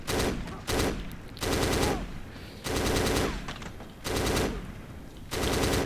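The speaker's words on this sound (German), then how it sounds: "bei der hier kann man wirklich immer nur wenige Schüsse abgeben, dann verzieht die sofort ganz extrem nach oben" Gunfire from a weapon with strong upward recoil in the Xbox shooter Black, set in an enemy factory: six loud automatic bursts of about half a second to a second each, separated by short pauses.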